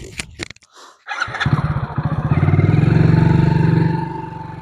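A motorcycle on a forest ghat road, heard close by as the engine catches and then revs into a loud, steady, throbbing drone that slowly fades a little.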